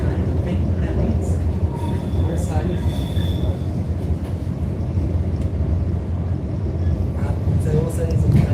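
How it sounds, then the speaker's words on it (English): Train on the Port Dock railway line in Port Adelaide, rumbling steadily close by with faint wheel squeal running throughout, under a continuous noisy wash. "That part of the rail line is for the front train."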